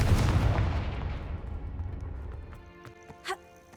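A Confringo fire spell blasts in Hogwarts Legacy: a loud, booming burst with a long rumbling decay that fades out over a few seconds, followed by a brief sharp crackle near the end.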